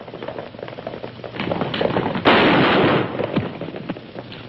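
A gunfire volley from soldiers in a western movie scene, a dense crackling burst of many shots that swells sharply midway and fades, with busy background commotion and no clear speech.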